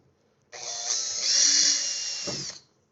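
A small drill bit whines through a metal window frame in one continuous high-pitched burst of about two seconds, close and fairly loud, then stops abruptly.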